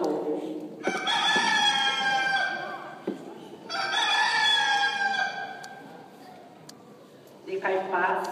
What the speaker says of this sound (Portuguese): E na mesma hora o galo cantou.